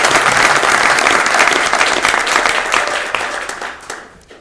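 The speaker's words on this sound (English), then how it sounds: "I think we need to give a round of applause." A crowd at a Cache County Council regular meeting claps in a dense, steady burst of applause that holds for several seconds, then thins and fades away near the end.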